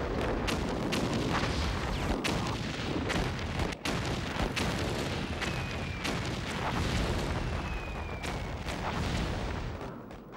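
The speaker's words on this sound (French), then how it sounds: "Les obus tombent avec un fracas épouvantable" Artillery shells exploding and thundering without pause at Verdun in the First World War, a dense, loud barrage of booms and blasts layered over one another across the whole stretch.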